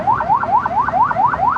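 A car alarm on a Chevrolet Zafira, set off during ECU calibration, wails nearby in a steady repeating upward sweep, loud and continuous, cycling about seven times with no voices.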